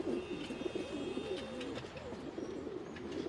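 Pigeons coo steadily inside a coop with squeakers and nesting squabs, a continuous overlapping murmur of soft, warbling calls close to the microphone against a faint background hiss.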